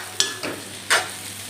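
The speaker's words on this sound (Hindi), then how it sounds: "फ्राई कर देता हूँ" Food frying in a pan for a home breakfast, with a few short sizzling bursts as ingredients are stirred, close and moderately loud over a quiet background.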